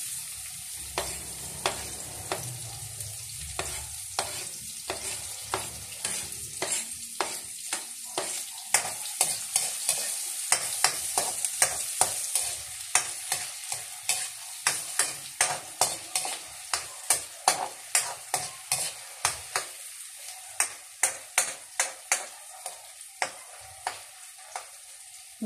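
Sliced onions sizzle as they fry for a banana-blossom lumpia filling, with a steady run of sharp spatula scrapes and stirring clicks against the pan, fairly close and with no talking.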